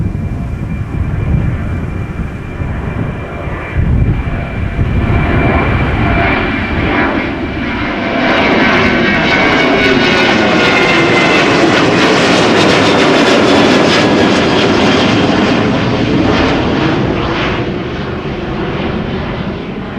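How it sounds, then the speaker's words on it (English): A KLM Boeing 737 airliner at windy Amsterdam Schiphol roars loudly, jet engines swelling to a broad peak as it passes close by, then easing slightly, with buffeting wind throughout. "KLM 737 in the Sky Team livery."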